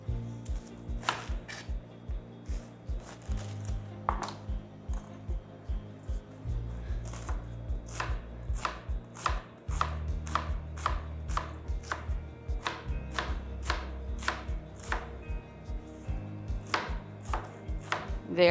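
A knife chops cabbage for pico de gallo on a cutting board in quick, steady bursts of sharp knocks. The cuts come close and clear, with short pauses between runs, and no one talks.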